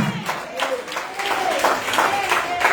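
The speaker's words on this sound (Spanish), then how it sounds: "Den ese aplauso al Señor" A church congregation applauds together, a dense burst of clapping with voices mixed in, fairly close and loud.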